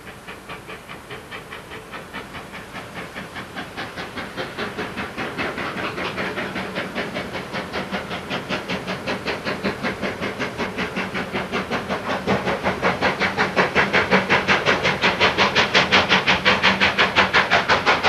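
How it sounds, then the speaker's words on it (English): KA class steam locomotive 942 departing up the Parnell bank in the early morning, its exhaust pounding in a steady rhythmic chuffing amid hissing steam, growing louder and quicker as it pulls away, with no voices. "the exciting pounding of steam on the Parnell bank in the early morning hours, demonstrated here a week earlier as 942 departed for Tauranga"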